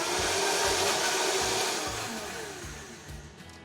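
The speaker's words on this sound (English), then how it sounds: "go ahead and turn on the blender, and you're gonna blend it until it looks just creamy" A kitchen blender whirs steadily while blending taco sauce ingredients, a loud continuous motor roar with a slight pulsing rhythm that eases off somewhat toward the end, no voices.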